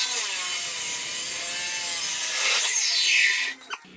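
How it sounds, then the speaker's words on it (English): A chop saw cuts through a 3-inch steel turbo downpipe tube for pie cuts, a loud, sustained, harsh grinding hiss that holds steady for about three seconds before the blade winds down and stops. "Oh, I love chop saws."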